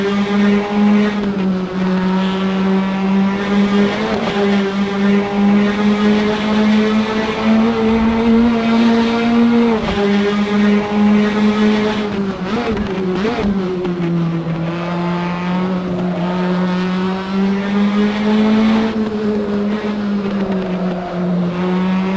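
A race car engine in Assetto Corsa drones steadily from the onboard camera for over twenty seconds, pitch rising and dipping through gear changes, loud and continuous with no talking.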